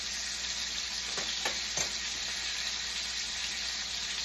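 Steak sizzling steadily in a hot pan, a loud continuous frying hiss with a few brief clicks partway through and no talking.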